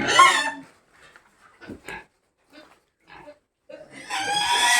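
Native pigs and piglets on a farm squeal and grunt loudly at the start and end, with scattered quieter grunts and snorts in between.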